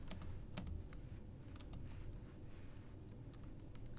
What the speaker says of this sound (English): we'll type that in there